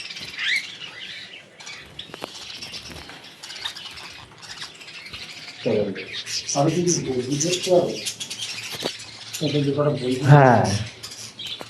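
Budgies in a bird collection chirp and squawk in dense overlapping bursts, loud and close, with sharp rising calls clustering toward the end, while a person speaks briefly amid the noise.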